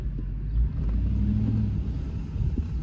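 An SUV with a freshly repaired rear differential accelerates hard from a standstill, its deep engine rumble swelling loud and steady for about three seconds.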